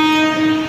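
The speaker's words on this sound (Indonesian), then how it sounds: "Di jalur 4 sana kok kayak ada kereta konservasi apa ya, kereta kelas bisnis di jalur 4." At Manggarai station, a train sounds a loud, sustained horn tone, close and steady for under a second.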